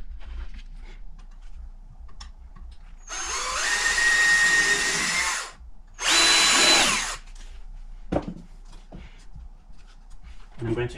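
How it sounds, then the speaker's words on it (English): A power drill whirs in two bursts, a long run then a shorter one, pre-drilling wood for a glass door frame, with light handling noises before and after. "So I'm going to pre-drill this cut."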